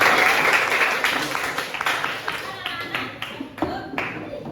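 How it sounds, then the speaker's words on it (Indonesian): A classroom of children claps together, sharp uneven claps starting loud and thinning out into scattered taps near the end. "Tepuk tangan."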